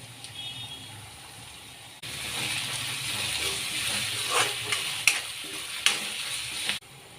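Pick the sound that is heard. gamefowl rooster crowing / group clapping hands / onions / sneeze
onions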